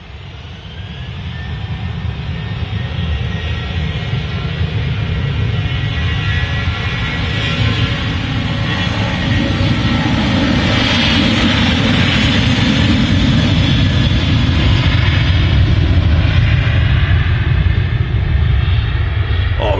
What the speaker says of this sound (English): Real rumble from them CFM engines. Rumble in the ground.